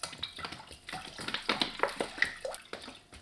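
About one and a half litres of water poured into a cooking pot for pickling yellow tomatoes, a close, quiet splashing and gurgling pour with small knocks.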